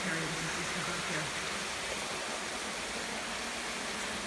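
Fresh water in Yellow Creek, emerging from beneath Mount Pleasant Cemetery, rushes in a constant, even wash of close, steady noise with no breaks, a faint low murmur briefly underneath at the start.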